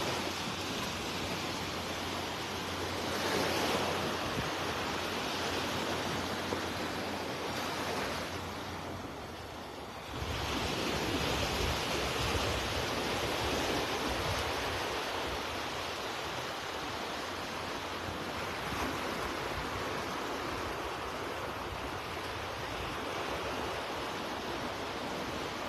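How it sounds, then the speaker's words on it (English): Waves wash onto Vanderbilt Beach in Florida on an early morning, a steady, broad hiss of surf rolling in continuously, with a brief lull partway through and no voices. "Just give you a peek up the beach at Eleanor Wiggins"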